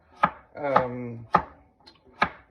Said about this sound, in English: And then we're just going to chop like this.